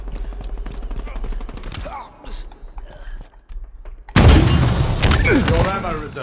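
A rocket launcher fires in Halo Infinite multiplayer capture-the-flag, a loud sudden blast breaking out after a stretch of quieter game sounds and lingering as a roaring burst, with voices talking over the action.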